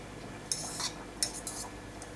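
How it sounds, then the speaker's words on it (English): A fork scrapes cooked couscous loose from a pot, giving a few short, bright metallic scratches and clinks close by, spaced irregularly over a quiet background. "we're going to take a fork and then scrape all the couscous from the pot"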